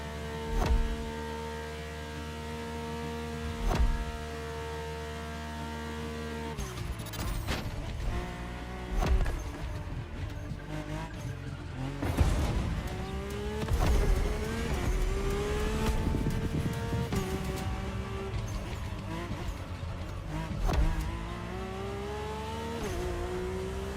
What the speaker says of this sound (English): My ultimate appointment in this country was set with the breathtaking Mercedes AMG 1.